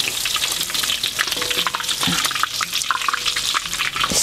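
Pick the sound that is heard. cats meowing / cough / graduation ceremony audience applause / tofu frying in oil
tofu frying in oil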